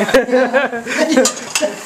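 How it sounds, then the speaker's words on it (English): Dishes are washed by hand, with pots and cutlery clinking and clattering in quick, irregular knocks close by, while people talk over the sounds. "doing the dishes"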